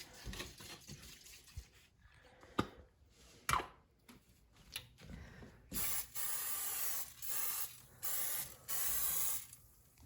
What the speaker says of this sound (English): Now, that was cooking spray.